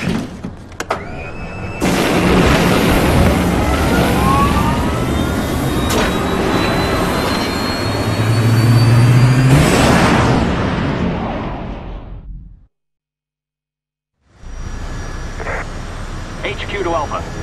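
Aircraft engines fire up in the Resident Evil 6 video game, a loud, sustained roar with rising whines and rumble, close, then a brief cut to silence before the engine noise resumes.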